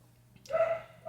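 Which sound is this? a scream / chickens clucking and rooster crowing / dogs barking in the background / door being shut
dogs barking in the background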